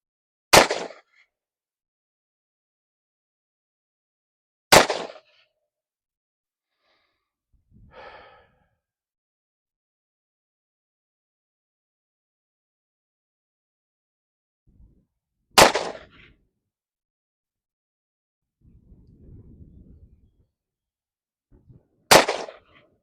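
Four loud, sharp shots from a 1933 Smith & Wesson 38/44 Outdoorsman revolver ring out at irregular intervals, separated by near silence with faint breathing and small rustles.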